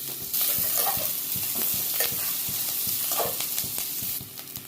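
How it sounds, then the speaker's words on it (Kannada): Onion, ginger and garlic fry in a pan for a bottle gourd, avarebele and prawn sambar: a soft continuous sizzle punctuated by steady, rhythmic clacks of a stirring spoon against the pan. "ಈರುಳ್ಳಿನ ಕೆಂಪಗಾಗೋವರೆಗೂ ಫ್ರೈ ಮಾಡ್ಕೊಂಡಿದ್ದೀವಿ"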